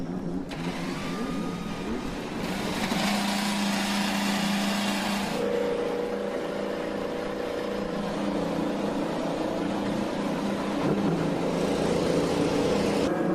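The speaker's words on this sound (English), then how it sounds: "Drivers, start your engines." IndyCar race car engines at Road America fire up and run together in a steady loud roar that lasts the whole time, with a shift in pitch partway through.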